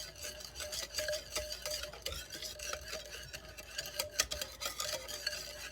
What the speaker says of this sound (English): And whisk the ingredients.